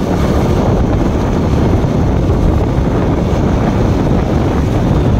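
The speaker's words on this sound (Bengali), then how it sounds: "এত হাওয়া আর উইন্ড ব্লাস্ট হচ্ছে" Loud, constant wind roars and buffets a microphone, a dense rushing blast with no pauses, like wind hitting a rider at speed on a KTM Duke 200 motorcycle.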